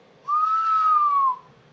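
A single sustained whistle into a CB radio microphone with the mic gain turned up, one clean steady tone lasting about a second, slightly rising then falling, loud and alone.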